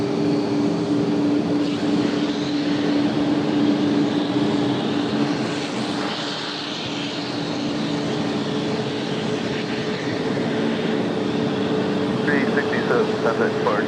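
Arriving airplane landing at Raleigh Durham airport, a steady broad engine roar with a low droning hum, loud and sustained, under people talking and radio chatter.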